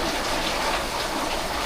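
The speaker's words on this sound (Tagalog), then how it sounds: "grabing ulan na yan. Walang tigil yung ulan na yan." Heavy, unbroken rain pours down steadily, a dense wash of hiss and patter with no gaps and no voices.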